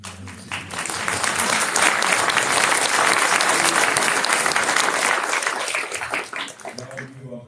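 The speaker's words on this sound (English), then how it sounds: "you can have a little applause if you like" Sustained audience applause at a municipal election all-candidates meeting, a dense, steady wash of many hands clapping that swells, holds for several seconds and then tapers off near the end.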